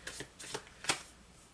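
Tarot cards being shuffled in a few quick riffling bursts, with the sharpest, loudest flick near the end, close and alone with no talk.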